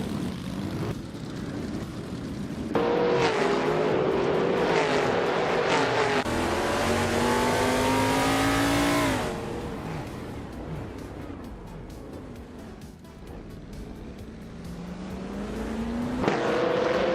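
Racing cars in a video game race, including a Plymouth Roadrunner, roar past in loud rising and falling engine sweeps, with one long close pass in the middle and another car approaching at the end.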